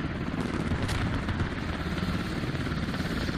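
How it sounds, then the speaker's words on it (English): Helicopter flying in the Arma video game, coming in under fire from a BMP to drop supplies; a steady, loud broadband rotor and engine roar runs unbroken throughout with no talk. "that helo, balls of steel, still coming in"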